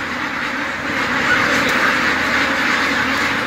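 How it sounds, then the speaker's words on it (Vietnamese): Thousands of ducks in raised-floor pens on a large farm in Hau Loc, Thanh Hoa, a dense continuous din of overlapping quacking, loud and steady throughout with no talking. "đây là vịt nuôi chuồng sàn ở Hậu Lộc, Thanh Hóa"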